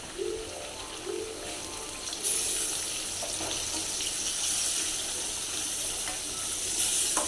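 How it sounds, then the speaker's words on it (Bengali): Water is poured into a pan of sizzling fried duck meat, a steady hiss and rush that swells and carries on loudly after an initial frying crackle, no talk. "গোস কষানো শেষ একটু পানি দিয়ে দাও"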